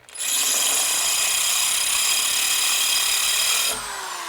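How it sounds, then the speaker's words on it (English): A brand new power drill whines loudly and steadily with a harsh grinding edge for several seconds while working on a motorcycle, then its pitch drops as it bogs down, slows and dies. "Killed the brand new drill."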